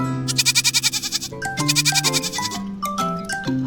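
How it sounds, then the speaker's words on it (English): A goat bleats in a long, wavering, rapidly pulsing cry, loud and close, while a simple melodic tune of plucked or keyboard notes plays beneath and continues after the call ends. "Goat"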